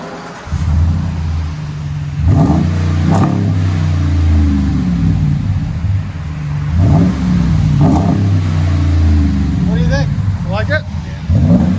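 A 2017 Dodge Ram with the 5.7L HEMI V8 and Magnaflow dual exhaust with resonators kept on revs repeatedly, deep rumbling idle punctuated by several loud throttle blips, with someone talking over it near the end.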